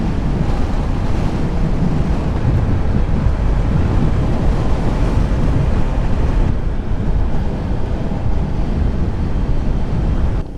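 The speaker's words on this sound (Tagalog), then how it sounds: "Lakas ng tubig, oh." Strong river water rushes loudly and continuously near a mountain road in Nueva Vizcaya, a dense roar mixed with wind buffeting the microphone.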